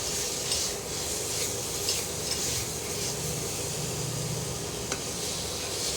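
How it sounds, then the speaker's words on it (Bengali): A spoon steadily stirs and scrapes a thick date mixture for a sweet in a wok, producing a continuous close, gritty rubbing sound with a faint sizzle, and no voices. "কড়াই ভালো করে একটু নাড়িয়ে নিতে হবে।"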